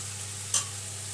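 Fried potatoes seasoned with salt and turmeric sizzle steadily in a pan, with a single quick stir scraping through the middle of the frying hiss.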